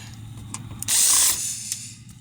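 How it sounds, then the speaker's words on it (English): Screw being removed from the blower door of a Goodman furnace, a close mechanical ratcheting burst from a tool in the middle of the clip, with quieter clicks before and after. "we are safe to proceed with taking the blower door off. There's one screw."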